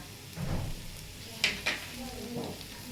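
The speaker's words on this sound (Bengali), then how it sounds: "ভালো করে আগে ঘিয়ের মধ্যে ভেজে নেব" Bottle gourd frying in ghee in a pan, with a soft, steady sizzle and a few brief clatters of stirring near the middle, under quiet talk.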